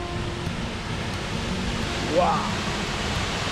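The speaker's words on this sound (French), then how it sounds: "On va aller voir cette belle cascade de plus près là-bas." A waterfall on a hike in Norway roars as a steady broadband rush, close and continuous, with a brief exclamation from a voice partway through.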